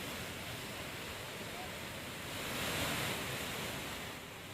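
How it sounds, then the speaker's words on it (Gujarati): The flooded Ambika River pours over the overflowing Mother India Dam in Mahuva, Surat, a dense, continuous roar of rushing water that swells slightly midway, with no clear voices over it. "અંબિકા નદી બે કાંઠે વહેતી થઈ છે અને જે મધર ઇન્ડિયા ડેમ છે તે સંપૂર્ણ છલકાઈ ગયો છે"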